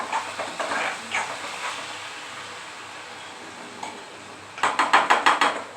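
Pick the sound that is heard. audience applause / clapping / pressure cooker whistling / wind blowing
pressure cooker whistling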